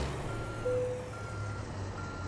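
A truck's reversing alarm beeps in American Truck Simulator as a trailer is backed in at night, a faint steady tone repeating at intervals over a low idling engine rumble, with no talking.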